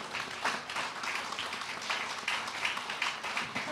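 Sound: applause for an award-winning author

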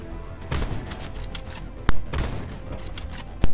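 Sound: gunshots in the video game Black Ops 4

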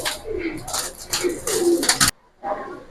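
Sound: racer pigeons cooing

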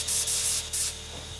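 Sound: Harder & Steenbeck Evolution airbrush spraying

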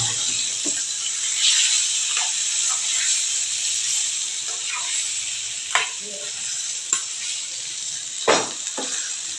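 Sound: paneer frying in a pan

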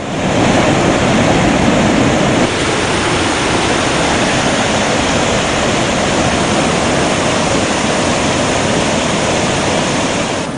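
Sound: roar of Kambam waterfall cascading over rocks

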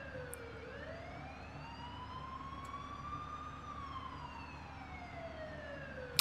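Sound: sirens in SimCity 4 Deluxe, from a video game

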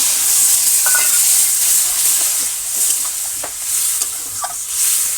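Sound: water added to frying pan, sizzling

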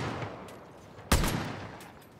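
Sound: gunfire in the video game Far Cry: New Dawn

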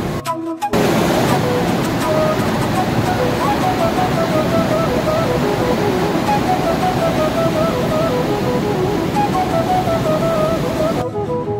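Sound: water flowing at a dam

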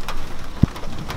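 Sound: rain falling

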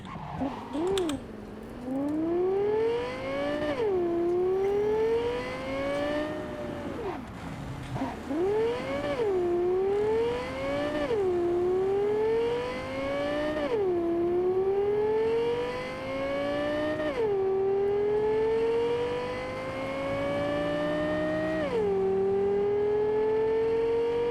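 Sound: car driving in video game Cyberpunk 2077

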